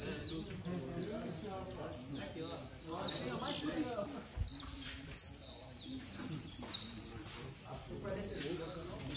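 Blue-black grassquit (tiziu) at a songbird tournament, singing repeated short, high buzzy phrases at close range, with someone talking in the background.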